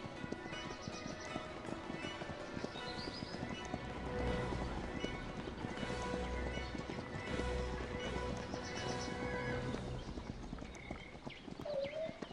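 Horses galloping in a cavalry battle video game, Hungarian light cavalry against dragoons, with dense continuous clip-clop of many hooves and occasional whinnies under game music, no talk.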